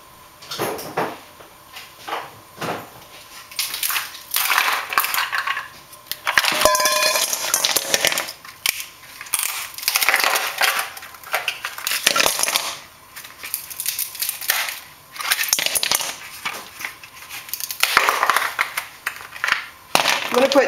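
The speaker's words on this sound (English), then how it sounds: "Put my stainless steel bowl back on top. And I'm going to put more ice" Ice cubes from trays are dropped into a stainless steel bowl resting on a pot over the stove. The clatter comes in repeated bright bursts of clinking and rattling, with pauses between them.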